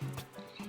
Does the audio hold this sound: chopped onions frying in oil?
no